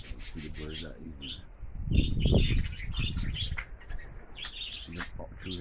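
Pigeons at a loft on a rainy day give repeated close calls and chirps, mixed with wing flapping and wooden scraping, and a voice is heard in places.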